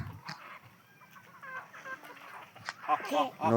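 Free-ranging country chickens on a fenced farm in Gadag cluck in short, scattered calls near the microphone, growing busier and louder toward the end, with faint voices in the background.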